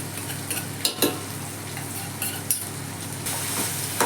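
Mutton with almond-cashew paste sautéing in hot oil for a white pulao, a steady close sizzle broken by a few spoon scrapes and clinks against the pan.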